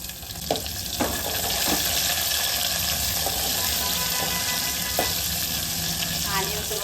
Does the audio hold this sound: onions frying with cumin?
yes